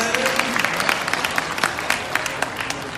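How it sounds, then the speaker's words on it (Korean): A room full of people claps continuously, dense and lively, with scattered sharper hand claps standing out near the microphone. "다시 한번 박수 부탁드리겠습니다"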